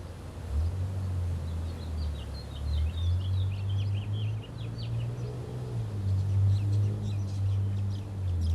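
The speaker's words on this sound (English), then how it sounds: "and singing of birds." Birds chirping in short scattered bursts over a steady low rumble of waves and breeze outdoors, the calls thin and moderately distant, coming in clusters with pauses between them.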